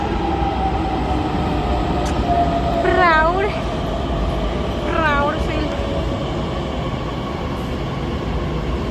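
Steady loud rumble of a metro train in motion fills the whole stretch, with people talking briefly over the constant rolling noise.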